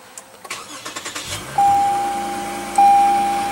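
A Lexus GS F Sport with a 3.5 liter V6 is push-button started; a few light clicks lead into two chimes and a steady engine idle that follows the start, close by with no talk.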